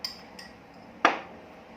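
A spoon clinks once against an iced dessert glass while coconut milk goes into red bean iced dessert. It is a single close, bright strike with a short ringing decay against quiet room tone.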